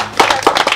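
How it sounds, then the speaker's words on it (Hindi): Clapping from a village crowd at a rural political speech, a burst of hand claps starting abruptly and continuing unevenly, close and fairly loud. "थारी जोरदार तालियां"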